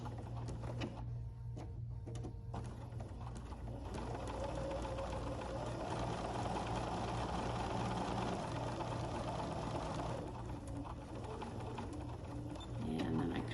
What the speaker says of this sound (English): I'm going to just stitch on that stitching line